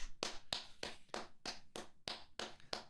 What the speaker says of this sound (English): I am genuinely applauding it.